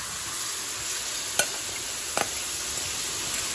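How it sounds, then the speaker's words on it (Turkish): Flour halva is stirred in a pan just after syrup is added, a soft continuous sizzle with two sharp spoon scrapes against the pan. "Ve yavaş yavaş karıştırıyorum."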